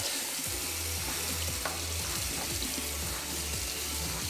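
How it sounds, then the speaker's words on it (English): Running tap water splashes steadily over a Cosori air fryer tray being rinsed in a sink, a continuous loud hiss with faint clattering, close by and without speech. "just a quick rinse and that stuff is coming off pretty good just by itself"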